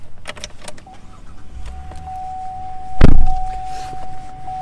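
A 2017 Chevrolet Traverse is started with a conventional key: a short, loud cranking burst catches into a running engine, with an idle hum and faint clicks from inside the cabin before and after.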